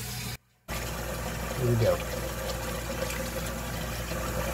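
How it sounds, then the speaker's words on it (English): Water running from a tap into a sink during dish scrubbing, a steady hiss that swells briefly partway through, close by, with a person talking over it. "I turn on the water"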